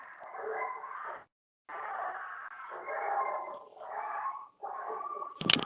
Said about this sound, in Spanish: Una pelea de perros.